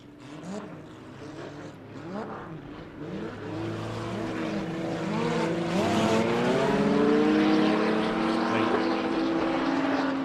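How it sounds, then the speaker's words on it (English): A BMW stock car races past at a border stockcar meeting, its engine note rising and sweeping in pitch as it climbs through the revs and grows steadily louder and closer. "just listen to that BMW singing through there"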